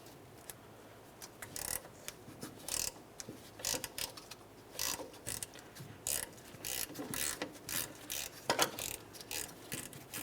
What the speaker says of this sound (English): Let's get my ratchet up and over this with my 12 millimeter socket on it, and we can start turning this out.